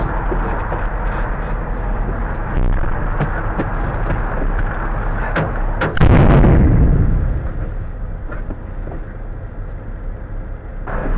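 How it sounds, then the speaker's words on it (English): A truck tire bursts with a single loud, booming blast midway, set against continuous engine and road rumble that carries on after the explosion. "So the tire explodes right in front of his face."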